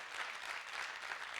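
An audience at a workshop session claps in a brief, faint burst of steady applause heard from a distance.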